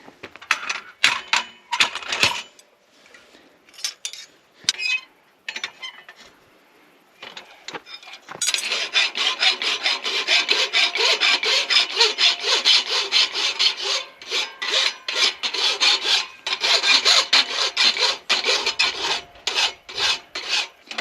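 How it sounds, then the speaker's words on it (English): Hand rasping of a rough burr on a wooden heart-shaped hook, first a few sharp separate scrapes, then a long run of rapid, loud, gritty strokes up close. "Now we got a big ugly burr, so we're gonna hot rasp all that and clean it up nice."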